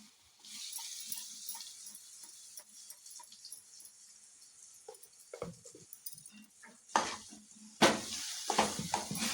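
Egg masala frying in a pan on a low flame, stirred with soft scraping and faint sizzle, then sharper clinks and scrapes of the utensil against the pan toward the end, with no talk.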